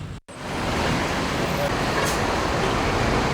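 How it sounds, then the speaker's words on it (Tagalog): Slow, congested morning traffic on EDSA, a dense constant roar of buses, cars and trucks close by, starting after a brief dropout and holding loud and steady. "Umaga pa lang, mabagal na ang daloy ng traffic. Maingay, mausok."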